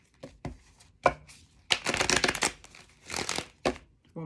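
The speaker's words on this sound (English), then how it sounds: "One more shuffle." Tarot cards being shuffled during a reading, a few short riffling bursts followed by longer, louder flurries of card noise up close, with no talking over them.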